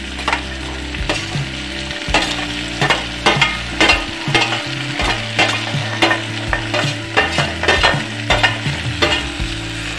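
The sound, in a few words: vegetables (carrot, peas, tomato, cabbage) frying in a pan for veg pulao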